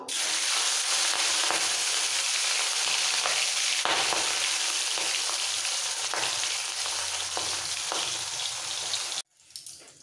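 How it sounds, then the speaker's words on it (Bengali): Turmeric-and-salt-marinated fish pieces fry in hot mustard oil with a loud, dense, continuous crackling sizzle and a few pops, which cuts off abruptly near the end. "এবার দিয়ে দেবো নুন হলুদ দিয়ে মাখানো মাছগুলো ছেড়ে দেবো"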